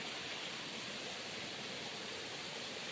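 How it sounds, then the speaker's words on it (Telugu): Hill spring water flowing along a channel toward farmland, a steady, even rushing wash with no breaks and no voices. "ఇది ఇలా పంపించాను కాలువ రూపంలో మా గుడ్డకి, అంటే మా ల్యాండ్కి."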